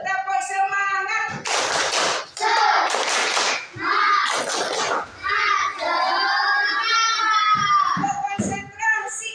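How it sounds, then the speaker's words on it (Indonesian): Children chant a rhythmic classroom clapping cheer (tepuk semangat), with bursts of sharp hand claps alternating with sung, shouted phrases in a lively pattern. "Tepuk semangat."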